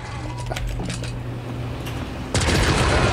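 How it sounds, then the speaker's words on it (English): Gunshots in the video game Gore pop sporadically in the distance, then a sustained loud blast of fire and roaring noise takes over near the end. "Oh, that was a bad shot. Wouldn't use that gun personally."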